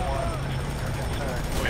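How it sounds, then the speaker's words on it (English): Helicopter in the shooter F.E.A.R. 3, a steady loud rotor drone filling the short moment with voices talking over it. "A helicopter."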